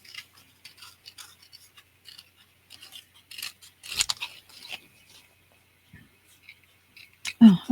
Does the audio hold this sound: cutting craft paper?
yes